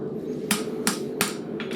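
Hammer blows on a steel bar shoe for a horse's abscessed hoof, three sharp, ringing metallic strikes spaced under a second apart, then two lighter taps, over a steady background hum.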